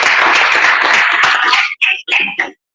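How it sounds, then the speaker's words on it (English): An indoor audience at an education kickoff event applauds, a loud, dense wash of clapping that thins into a few scattered final claps before stopping. "clap for them."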